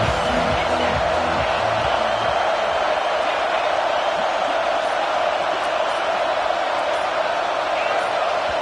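Stadium crowd roaring in an American football video game, a loud, dense, continuous wash of cheering noise filling the whole stretch without letup.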